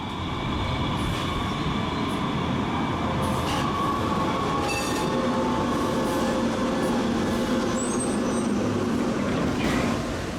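A MUNI K-line Breda light rail train runs through San Francisco, its steady rumble carrying rail noise and brief wheel squeals and whines, with no one speaking.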